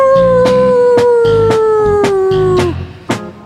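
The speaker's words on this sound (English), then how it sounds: "sometimes you just gotta howl at the moon when you're feeling like a wolf" A dog lets out one long, loud, close howl that slowly falls in pitch and trails off, with rhythmic thumps beneath it and a brief bump near the end.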